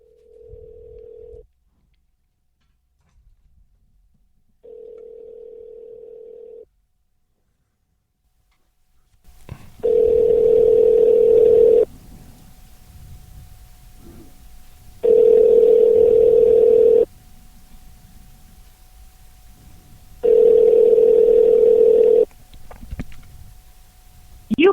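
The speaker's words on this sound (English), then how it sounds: "I'll see if I can get Jason on the phone here" A telephone call placed to reach a crew member at Evergreen Speedway: two short steady dial tones alone, then three long loud ringback rings at even intervals over a low background hum.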